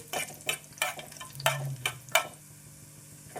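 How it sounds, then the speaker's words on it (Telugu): Half a tablespoon of cumin with other spices sizzles in a hot pan, a soft steady fry punctuated by about seven sharp scraping stirs of a spoon against the pan, close and clear. "హాఫ్ టేబుల్ స్పూన్ జీలకర్ర వేసేసి వీటన్నిటిని మంచి ఫ్లేవర్ వచ్చేంత వరకు ఒక్క నిమిషం ఫ్రై చేసేయండి"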